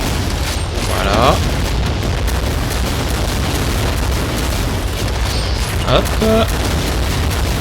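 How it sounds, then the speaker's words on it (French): Rocket and grenade explosions in the video game Brutal Doom, continuous loud booming and rumbling blasts layered over game sounds, with someone talking briefly over them. "Ah oui, la grenade, la roquette de trop, là."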